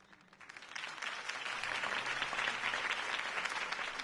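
A crowd applauds after a Harvey Dent campaign speech, the clapping building quickly from quiet into a steady, dense ovation that holds without speech, heard from a slight distance.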